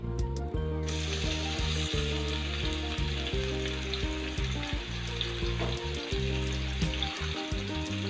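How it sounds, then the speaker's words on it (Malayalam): Sliced onion hits hot oil in a pan while cooking Malabar-style egg biryani, giving a loud, steady sizzle that runs unbroken after a brief start, with low steady tones humming underneath. "ഇനി നമുക്കിതിലേക്ക് സവാള ഇട്ട് കൊടുക്കാം."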